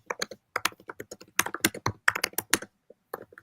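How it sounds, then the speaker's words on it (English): Several people type on computer keyboards, a loose flurry of clicking keystrokes in uneven bursts with short gaps, close and clear with no talk. "All I hear is everybody's typing."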